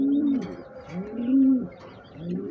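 Cooing from breeding pigeons, a few drawn-out throaty phrases rising and falling in a slow rhythm, close by and clear with no voices over them.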